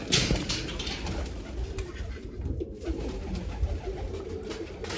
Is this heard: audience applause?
no